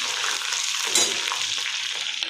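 Garlic and cumin hit hot oil with mustard seeds, giving a steady, close hiss of frying with a small crackling pop partway through and no talk.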